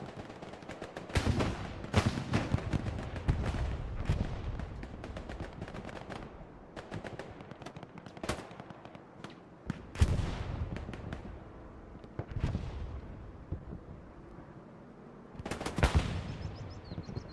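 Gunfights in Hell Let Loose, a competitive match, come across as repeated sharp gunshot cracks and bursts spread through a dense, busy battle din, with several louder volleys standing out at intervals.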